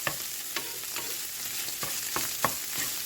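Sausage sizzles and fries steadily in a pan, with intermittent sharp scraping and stirring clicks over the continuous crackle, close and moderately loud.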